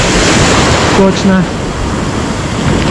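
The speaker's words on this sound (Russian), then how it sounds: "Так, волна чуть-чуть приподнялась." Sea surf breaks on a busy central beach at Lazarevskoye near Sochi, with a constant broad wash of waves close by and someone briefly speaking over it.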